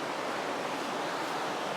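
Water flows steadily in a small village stream, a close, even rushing hiss with no breaks or voices.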